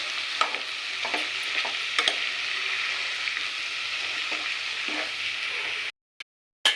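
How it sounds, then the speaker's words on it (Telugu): Capsicum is stirred as it fries in a pan, producing a steady close sizzle broken by repeated scraping strokes of the spoon. The sound cuts off abruptly near the end, and no one speaks. "ఇలా క్యాప్సికమ్ కూడా యాడ్ చేసేసుకోవాలి ఫ్రెండ్స్ యాడ్ చేసుకుని ఇలా మిక్స్ చేసుకోవాలి బాగా"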